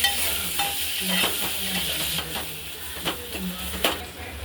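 Mashed roasted eggplant being stirred into a hot pan makes a steady sizzle and hiss with repeated spoon scrapes and taps against the pan, near and moderately loud.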